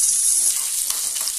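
Asafoetida and curry leaves sizzle in hot oil as a tempering for dal, a steady close crackling hiss that stays loud and even throughout.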